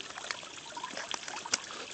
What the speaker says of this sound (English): Isn't that cool? Water going into water.